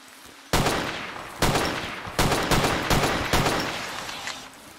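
SKS rifle fire in the Zero Sievert video game, shooting at guards: five loud, sharp shots spaced about a second apart, each followed by a short decaying tail, with no talking.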